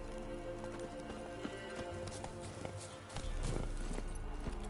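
Horse hooves clip-clopping steadily over a constant background in The Witcher 3, the mount Roach trotting along with a brief heavier thud near the end.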